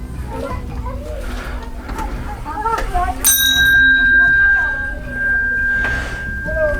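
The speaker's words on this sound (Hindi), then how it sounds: "घंटी बजाने के बाद जो इको है वो काफ़ी देर तक रहती है" A single struck bell at an old Hindu temple rings out with a bright, sustained tone and long echo that lingers for several seconds amid background voices and crowd chatter.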